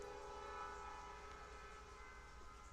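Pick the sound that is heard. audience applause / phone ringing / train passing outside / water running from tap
train passing outside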